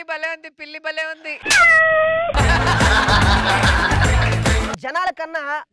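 Meows come from a comedy stage skit where performers play animals, so a voice likely imitates the cat. A string of short meows leads into a long, loud caterwaul, followed by a burst of music and more short meows, with voices around.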